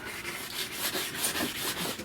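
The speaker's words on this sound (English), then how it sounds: "Not scuff, I'm actually sanding." Close, steady scratchy rubbing of sandpaper on a plastic car bumper, with quick back-and-forth strokes repeating evenly.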